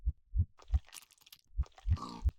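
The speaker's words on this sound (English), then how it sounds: "players inside the biome will hear a heart beating." A slow, deep heartbeat thumping in pairs, muffled and resonant, with faint crunchy texture between the beats, from a parasite biome in a Minecraft mod.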